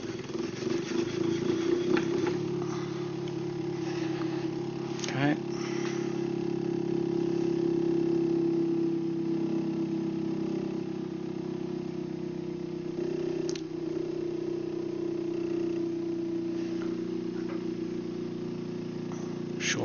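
A spinning generator wheel with its coils being shorted runs with a steady mid-pitched mechanical whir and hum, continuous and moderately loud, with a few brief clicks along the way.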